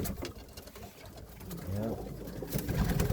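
Roller or homing pigeons coo in low, soft murmurs close by, amid rustling and faint background noise, with a couple of brief louder bursts near the end.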